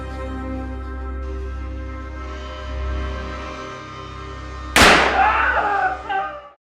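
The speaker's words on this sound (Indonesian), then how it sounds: "Setelah mendengar suara tembakan tersebut" A single sharp, loud bang cuts through a steady low musical drone, followed by a brief decaying rumble before the clip goes quiet.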